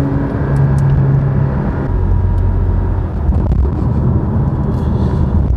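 A Porsche 718 Boxster GTS with its mid-mounted boxer engine is pushed to full throttle, producing a loud, continuous engine roar that rises in pitch throughout without talking.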